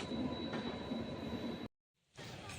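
A train arriving at Mysore railway station rumbles and rattles with a thin wheel squeal, heard up close, then cuts out briefly before the rolling noise returns.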